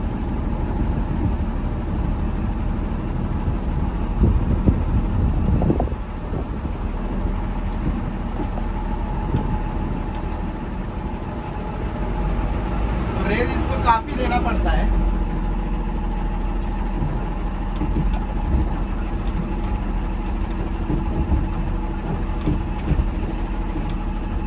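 A Tata 1822 bus with air brakes drives along, its engine and road noise forming a steady low rumble from inside the cab, with a short clunk partway through.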